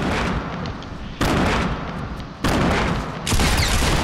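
Pump shotgun fire in the video game Fortnite: loud, dense bursts of gunfire crowd together, jumping louder in several abrupt surges, with no talk over them.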